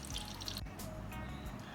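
Water running out of the holes of a Bernoulli's theorem apparatus, heard as close trickling and dripping with a sharp click early on.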